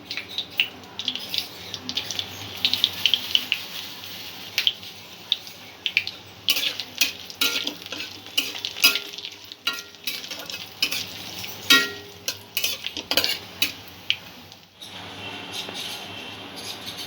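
Spices and a little asafoetida sizzle and fry in hot oil while a utensil stirs and scrapes the pan for a potato bhindi curry. The stirring clatters in irregular bursts over a soft, steady fry.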